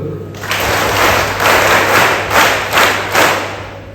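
Students at a school achievers' ceremony clap together in unison, five sharp group claps spaced about half a second apart, loud and close against a steady low hum.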